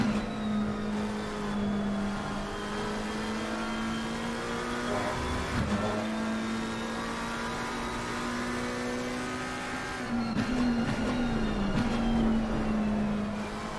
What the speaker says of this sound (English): We hear amazing noise from the McLaren engine.